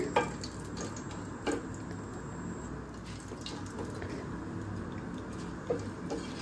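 Dried red chillies fry in hot oil for a Bengali potol korma tempering, a steady dense crackle and sputter with a few sharper pops, close and fairly loud, with no talking.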